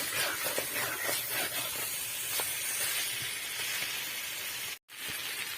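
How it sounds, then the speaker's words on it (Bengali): Hot water poured into a pan of frying meat and potatoes with ground spice paste sets off a loud, steady close hiss of steam and sizzle that runs on without pause except for one brief cut near the end. "তো এবার গরম জলটা দিয়ে দিই।"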